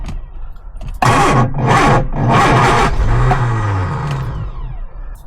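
A Lotus Elan engine cranks in several strained bursts, catching briefly with a rising whir and rough revving before sagging back, close and loud after a quiet opening.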